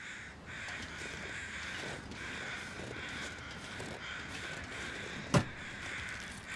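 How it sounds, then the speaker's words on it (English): Crows caw in The Long Dark, heard faintly as a few harsh calls over a steady ambient hiss, with one sharp knock near the end. "Couldn't tell if that was the sound of crows"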